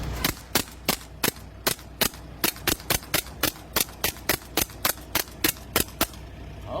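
Airsoft gun fired at a target during target shooting in Padre Garcia, Batangas: about twenty sharp, loud cracks in a steady, fairly even rhythm, each short and close, with no talk.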